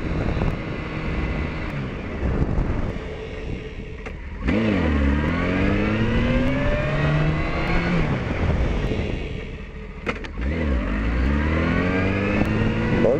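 A Honda CB919 motorcycle revs hard at a stunt riding session, its engine climbing and falling through repeated loud, close throttle sweeps with brief pauses between bursts.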